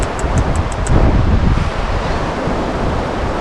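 Ocean surf on a South Carolina beach, a loud, steady wash of breaking waves mixed with heavy wind buffeting the microphone.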